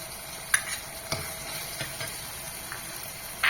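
Tomatoes and crushed garlic sautéing in a pan give a soft, steady sizzle with a few sharp clicks of a spoon stirring, close by and fairly quiet, with no voices.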